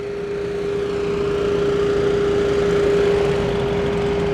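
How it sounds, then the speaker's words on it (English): A loud leaf blower drones nearby with a steady, high-pitched engine whine that holds constant throughout, slightly swelling midway, with no voices over it. "there's a super loud leaf blower going"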